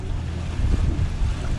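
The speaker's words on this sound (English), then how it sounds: "This is the actual wind right now." Wind gusting loudly across a small sailing catamaran out at sea, a steady close roar with rumbling buffets and no voices.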